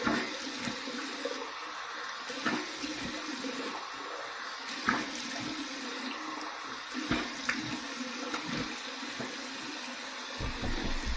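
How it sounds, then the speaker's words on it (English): A cold tap runs into a bathroom sink for a rinse after a safety razor shave, a steady close splashing stream with small shifts as hands move through it, no talk. "We're going to go with our cold water rinse."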